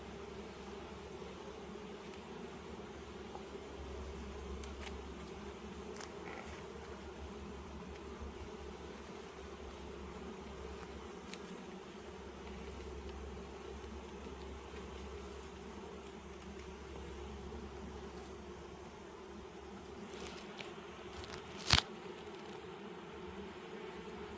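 Honey bees buzz steadily during a hive inspection, a faint, continuous droning hum with a single sharp click late on and no talking.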